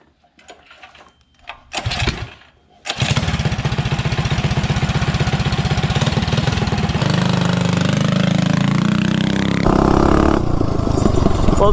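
A modified mini bike engine with a 60 sprocket starts after some clunks, idles with a steady rapid putter, and then revs higher and louder while ridden, with the pitch rising and falling close by.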